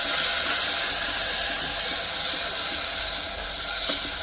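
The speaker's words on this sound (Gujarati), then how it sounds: "જોઈ લો ટામેટા લીમડો એક સાથે જ નાખી દીધું છે." Tomatoes and curry leaves tipped together into hot oil for sambar, giving a loud, continuous close hiss and sputter that holds steady throughout.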